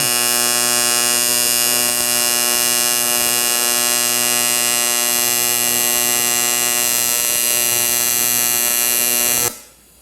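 An AC TIG welder on aluminum gives off a steady, loud electric buzz with a harsh crackling edge. It holds unbroken for about nine seconds, then cuts off abruptly, with no talking.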